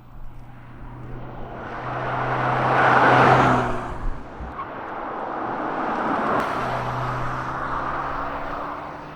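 A BMW X2 M35i sports SUV is driven around nearby, a broad engine and road roar that swells past around the three-second mark, eases, then rises again steadily toward the end, with no talking.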